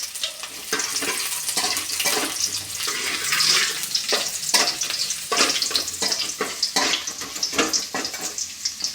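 About five or six finely chopped garlic cloves hit hot oil in a pan for white sauce pasta, setting off a loud, dense, continuous sizzle and crackle close by, with frequent spatula scrapes and stirs and no voices.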